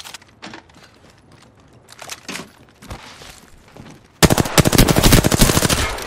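Automatic weapon fire from the Apex Legends battle royale game: scattered shots early on, then a loud, dense burst of rapid gunfire in the final two seconds, with no talking.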